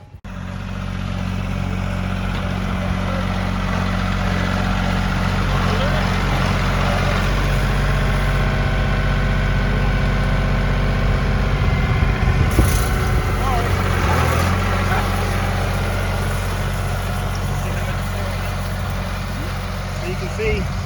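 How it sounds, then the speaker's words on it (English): Farm tractor driving past while a spreader throws seed over a wet field, a steady loud engine drone that swells as it nears, with people talking nearby. "he'll be coming by us here in just a minute in the tractor"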